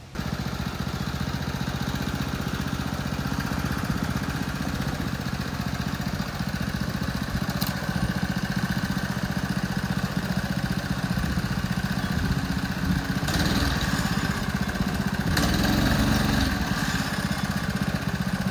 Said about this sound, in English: This is a fancy auger.